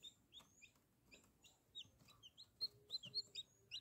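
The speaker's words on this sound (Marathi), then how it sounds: "इथे आतमध्ये अंडे पिल्ले आहेत।" Chicks peep and chirp inside a homemade egg incubator warmed by a bulb, a run of soft, quick high calls that grows busier toward the end, faint and close with no talk.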